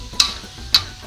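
Chili being stirred into a pan of cooking food with wet spice paste: two or three short scraping clicks of a utensil, spaced roughly half a second apart, over a faint background.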